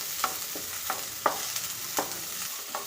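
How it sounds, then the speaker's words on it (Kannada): Onions frying in a pan for radish chutney, a soft steady sizzle broken by sharp scraping stirs of a spatula every half second or so, close and alone. "ಈರುಳ್ಳಿನೂ ಅಷ್ಟೇ ಒಂದು ಸ್ವಲ್ಪ ಕಂದು ಬಣ್ಣ ಬರೋವರೆಗೂ ಫ್ರೈ ಮಾಡ್ಕೊಳ್ಳಿ"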